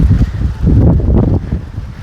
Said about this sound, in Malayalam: അതിശക്തമായ മഴയാണ് സുഹൃത്തുക്കൾ ഇവിടെ കാറ്റടിക്കുന്നുണ്ട് ഭയങ്കരമായിട്ട്